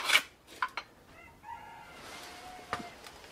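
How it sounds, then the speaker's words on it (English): Roosters crow outdoors on a rainy day, a drawn-out call rising and fading at moderate distance, after a few sharp clicks close by at the start. "Fucking roosters."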